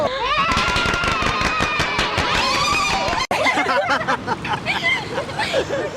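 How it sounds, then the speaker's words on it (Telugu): Audience applause at a public comedy riddle show, a dense, loud patter of many hands clapping mixed with crowd chatter, briefly cut off partway through before resuming. "ఓకే చప్పట్లు."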